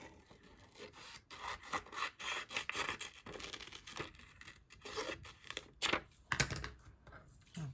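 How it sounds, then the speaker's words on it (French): A hobby blade such as an X-Acto knife scrapes and rasps steadily around a cut-out shape, close up, in short dense strokes with brief pauses and a few sharper pulls near the end, no one speaking. "J'aurais comme envie de les découper tout le tour"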